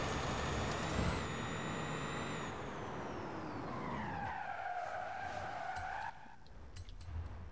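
A Hyundai Ioniq electric car driven in the Forza Horizon 5 racing game gives a faint whine that rises and bends over tire noise, with skidding scrubs and road rumble throughout, quiet and steady with no talking.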